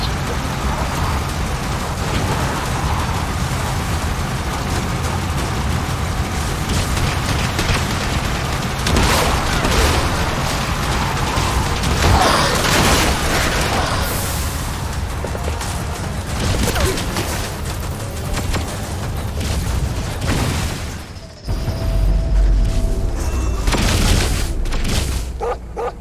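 In Metal Gear Solid V: The Phantom Pain, a target truck is destroyed amid loud, dense rumbling booms and explosions that run throughout, broken by a brief drop near the end, with scattered game voices mixed in.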